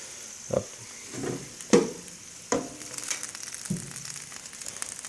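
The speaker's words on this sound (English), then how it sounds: "the peppers are very hot. You can still hear them sizzling." Hot roasted poblano peppers sizzle softly with a steady crackling hiss, punctuated by a few sharp knocks and clunks close by.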